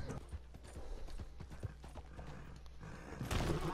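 Steady hoof clip-clops of a horse at a walk in Red Dead Redemption 2, mid-distance, with a low mechanical rumble underneath and a louder rush near the end.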